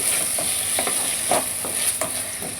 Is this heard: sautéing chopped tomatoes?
yes